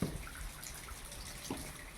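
Spring water pouring from an old spout at a village water source, a soft continuous trickle with a couple of faint splashes, nearby and quiet, no talk.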